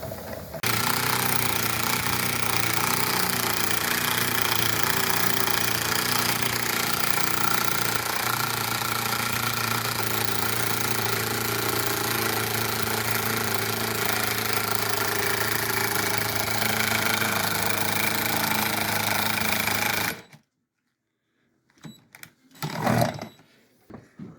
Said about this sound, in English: Yeah, that's a classic grinder.